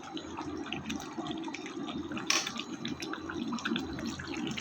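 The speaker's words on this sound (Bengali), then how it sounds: "আমি পরিমাণ মতো জল দিয়ে দেব।" Hot water pours into chicken curry cooking with potatoes, a soft, continuous splashing and trickling that stays fairly quiet and close.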